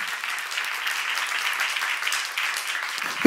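Congregation clapping during a church sermon, a sustained even patter of many hands, moderately loud and continuous, ending with a sharp knock.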